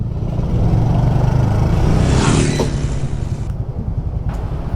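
A Yamaha Finn motorcycle rides at speed with a steady, close engine drone and road rumble, building briefly then easing slightly near the end, with no voices.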